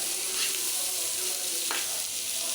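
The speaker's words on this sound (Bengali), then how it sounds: "এখন আমি হালকাভাবে বেছে নেব" Chopped ash gourd fries in oil in a pan, a bright steady sizzle close up with a brief stirring scrape partway through, no talking.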